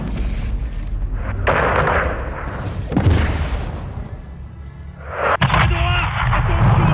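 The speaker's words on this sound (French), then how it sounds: "Je vois des tirs d'armes légères à la station service." Gunfire and heavy booming blasts in the video game Call of Duty Modern Warfare 2, with repeated shots and explosions rising and falling in loud bursts over the game's noise, with voices talking at times.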